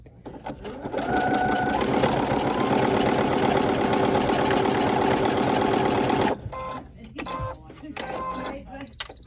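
A sewing machine fitted with a twin needle runs steadily at medium speed for several seconds with a fast, even mechanical chatter, then stops, followed by a few clicks and short whirs.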